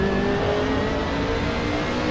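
A BMW M3 E30 engine in the Assetto Corsa racing game holds a steady, loud rev with a continuous droning tone and no speech over it.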